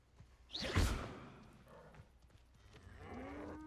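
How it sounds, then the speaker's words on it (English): A cow in the video game Hogwarts Legacy gives one loud, drawn-out moo up close, with some faint ambient game sound and a whooshing tone following. "Oh, there's a cow."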